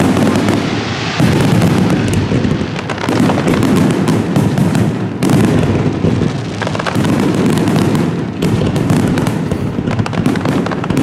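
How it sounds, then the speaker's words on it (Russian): A fireworks display in Dubai fills the air with continuous booming bursts and crackling pops, loud and dense, the explosions overlapping throughout with no talk. "А мы смотрим на салют."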